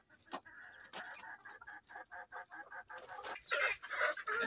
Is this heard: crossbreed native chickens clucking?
yes